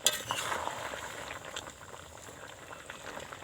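Pumpkin murabba syrup with cracked cardamom bubbling over a low flame while being stirred in a pan, a close, continuous bubbling hiss with light scraping.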